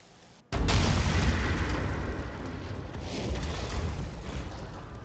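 Smoke grenades go off in F.E.A.R. 3, with a sudden loud onset that becomes a dense, sustained hiss, rushing on steadily and alone.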